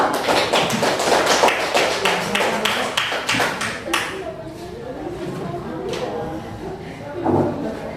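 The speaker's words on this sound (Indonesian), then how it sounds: "tepuk tangan untuk kelompok 2" Classroom audience clapping for a presentation group, a burst of sharp, close claps that thins and fades after a few seconds, leaving room noise and a brief murmur of voices near the end.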